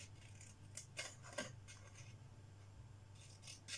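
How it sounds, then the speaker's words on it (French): Scissors snipping paper during a scrapbooking project, several quiet crisp cuts spaced across the moment, close and faint over a low steady hum with no talking. "Et là, on va couper, vous prenez vos ciseaux"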